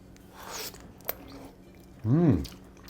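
Braised pork belly with steamed rice is bitten and chewed up close in a few soft, moist bites, and a short voiced sound comes at the end.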